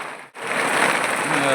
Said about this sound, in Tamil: மழை வந்து சரியான மழைங்க.